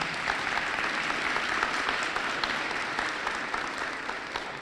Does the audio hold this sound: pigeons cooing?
no